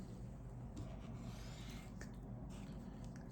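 Knife edge being drawn across CBN sharpening stones to remove the final burr, a soft continuous rubbing rasp with faint scraping strokes, steady and close.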